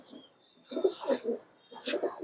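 A racing pigeon gives two short bursts of soft, throaty cooing, heard close and fairly quiet against a near-silent background.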